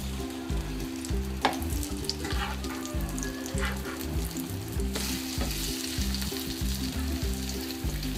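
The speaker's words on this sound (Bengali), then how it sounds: "মোট 3 মিনিট ভেজে নেবেন উল্টিয়ে পাল্টিয়ে সুন্দর করে" Egg fritter frying in a pan, steady close sizzle with occasional scrape and flip noises over a low repeating musical background, no talk.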